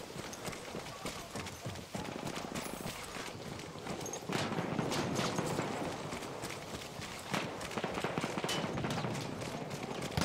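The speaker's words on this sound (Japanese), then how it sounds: "銃声がする。" Gunfire crackles through a jungle team deathmatch in Battlefield 1 on PS4 Pro, with sharp repeated shots, bursts and a Lewis Gun-style rattle over busy in-game background noise for about ten seconds.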